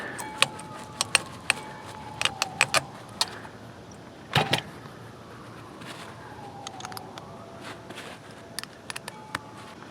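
Metal sockets and washers rattle and clink while someone rummages through a tool holder for a 1/2 inch socket and a washer, giving scattered sharp jangles and taps over a quiet background.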